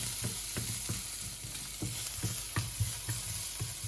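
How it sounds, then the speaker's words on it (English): Garlic sautéing quickly in a little leftover oil, a steady close sizzle with soft scrapes and stirring taps scattered through it, no voices. "I'm gonna add it in this remaining oil. Just saute it really quick."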